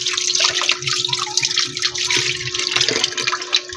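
Tap water runs steadily into a kitchen sink while fresh ginger, skin still on, is rinsed under it, a close, continuous splashing with small irregular bursts throughout.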